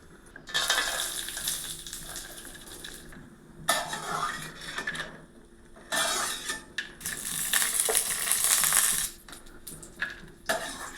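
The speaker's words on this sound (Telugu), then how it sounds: "పచ్చివాసన పోయే వరకు నూనెలో నేతిలో వేపుకోవాలి" Grated bottle gourd fries in oil and ghee in a pan for payasam, soft sizzling under repeated scraping and clinking of a metal spoon against the pan.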